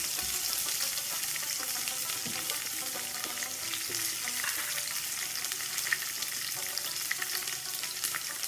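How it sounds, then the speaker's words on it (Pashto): Onions sizzle steadily in hot oil in a pan for a Pashto-style capsicum chutney, with a dense, even frying hiss close by and occasional faint stirring clicks, no voices. "پیاز ما اویل کې واچول لږ شان به دا سوتې کړو"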